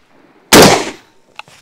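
A single loud Mossberg Maverick pump shotgun shot fired outdoors at a 15-metre range, a sharp close blast with a short decaying tail, followed by a faint click.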